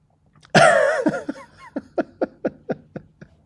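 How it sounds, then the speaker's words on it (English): A single sharp sneeze bursts out, followed by a string of short, rhythmic gasping chuckles that taper off. "I was trying to fight off that sneeze, and it didn't work."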